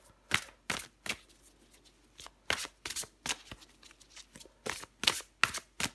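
Tarot cards being shuffled and drawn, a series of crisp riffling bursts and flicks separated by short pauses, close and clear in a quiet room with no talking.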